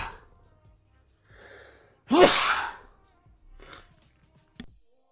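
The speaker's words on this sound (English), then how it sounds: "Oh, I'm gonna sneeze again." A single sharp sneeze bursts out from a person close to the mic, loud and sudden. A softer breath comes before it, and a short snort follows a couple of seconds later.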